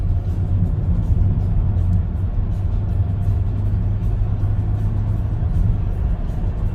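A Toyota Camry 2.4 Q VVT-i with a four-speed automatic pulls hard in third gear, its engine a loud, steady low rumble and drone heard from inside the cabin, holding nearly constant throughout.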